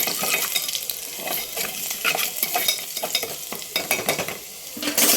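A gas stove is lit for cooking ginger rasam: one sharp igniter click with a brief whoosh, a pause, then two more clicks close together.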